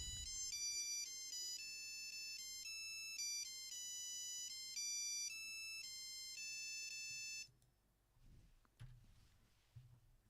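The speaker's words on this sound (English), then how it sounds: "playing the Tetris theme." A mobile phone plays the Tetris theme as its ringtone, a bright electronic melody of steady beeping notes lasting about seven seconds. It stops abruptly and is followed by faint handling noises.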